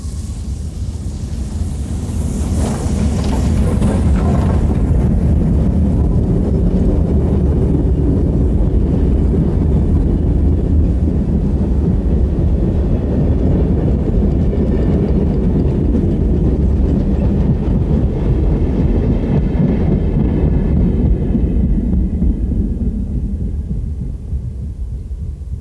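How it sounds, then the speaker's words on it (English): Flying Scotsman steam locomotive powering up a steep gradient on the Melbourne to Albury line in Australia, a loud sustained roar of exhaust and heavy rumbling that holds steady throughout and fades slightly at the end. "Here, Flying Scotsman is seen powering up one of the many steep gradients on the Melbourne to Albury route"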